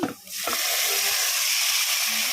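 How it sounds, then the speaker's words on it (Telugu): Half a kilo of chicken hits a hot pan of oil and turmeric for a bachelor-style chicken tomato curry, bursting into a loud, steady sizzle that holds close and constant after a brief stir. "ఇప్పుడైతే చికెన్ వేసేసుకుంటున్నా"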